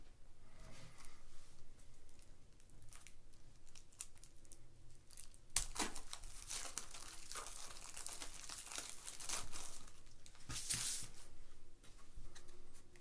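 Cards and packaging from the Eminent Domain Escalation board game expansion being unwrapped, with steady close crinkling, rustling and tearing of plastic wrap, a sharper tear burst midway and more crackling toward the end.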